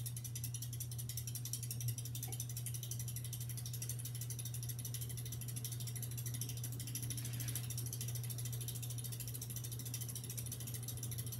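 A Halsey GEV ceiling fan running on high speed gives a faint, steady motor hum with a fine ticking mechanical texture, continuous throughout and without talking.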